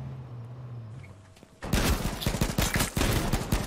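Gunfire in the H1Z1 battle royale game: after a quiet start with a low hum, a sudden burst of rapid, loud shots erupts and continues in quick repeated volleys.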